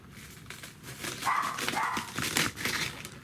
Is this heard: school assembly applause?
no